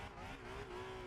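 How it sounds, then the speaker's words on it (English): A naturally aspirated 6-cylinder race car engine in a sim racing video game holds a steady, loud drone with a rising harmonic, running close and alone with no talk. "It sounds like Gran Turismo,"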